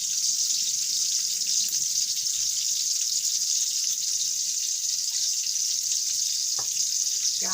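Onion hits hot oil in a pan and fries with a bright, steady hiss that holds loud and even throughout, broken by a couple of faint knocks near the end.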